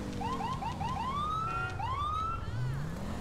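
A police car siren in GTA 5, from a modded patrol with the Columbia, South Carolina police department, wails in rising yelps and then a long sweep, steady and moderately loud with no talk over it.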